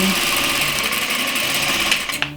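A sewing machine stitches a boning casing seam, its steady, close, continuous whir running unbroken before easing off at the end.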